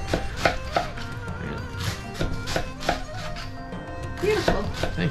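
A knife chops vegetables for eggrolls on a cutting board in quick, steady knocks, close and crisp, with a brief voice near the end.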